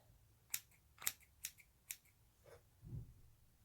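Sharp snips of scissors trimming loose threads on a sewn beauty pouch, four crisp separate cuts close by at a steady pace, followed by a soft low rustle of fabric.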